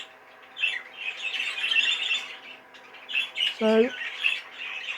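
A young show bird, ringed and bred in 2025, squawks repeatedly from inside a show cage in a series of harsh, close, fairly loud calls, with one brief spoken word from a person.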